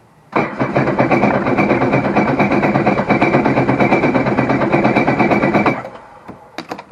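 A Sea-Doo four-stroke personal watercraft engine, run for winterizing and an oil change, holds wide open throttle as a loud, steady, close roar for about five seconds, then cuts off abruptly.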